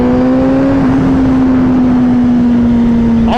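Motorcycle accelerating hard through a gear pull, a loud close engine whine holding a steady rising pitch, with a brief sharp shift sound right at the end.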